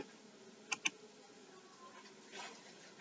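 Quiet typing of an SQL update command on a computer keyboard: two distinct key clicks, then a soft cluster of keystrokes, faint and close.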